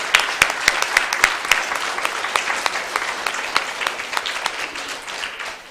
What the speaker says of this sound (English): can we give our teachers a round of applause for helping do this?